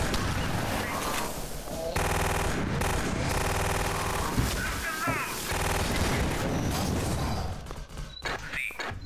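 Rapid, sustained gunfire from the Alien Swarm video game, dense bursts of automatic shots running almost without pause, loud and up close, with voices talking over it.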